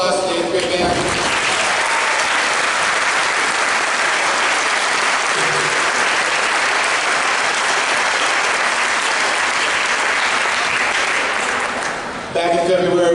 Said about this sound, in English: So one more round of applause to the 8th grade band.